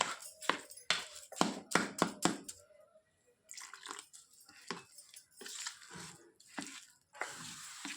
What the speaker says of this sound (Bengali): আর অল্প অল্প করে জল দেব